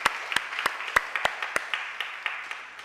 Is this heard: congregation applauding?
yes